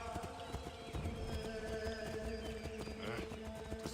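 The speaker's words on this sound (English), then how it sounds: "And apparently they got horses." Horse hooves clip-clopping in the Assassin's Creed III video game, a steady close trotting rhythm with occasional whinnies, set against a busy, murmuring game ambience.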